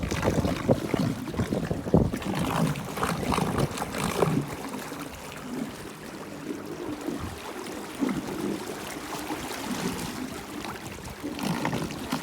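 A petrol outboard motor drives a small boat across Lough Neagh, its steady rumble heard close up and partly buried under heavy, gusty wind buffeting the microphone.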